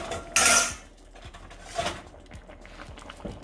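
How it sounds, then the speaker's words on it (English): A metal lid set onto a pot of simmering Canadian beef stew, giving one loud clattering clink followed by a couple of lighter metallic taps and scrapes nearby, with no talking. "So I'm just gonna place the lid on."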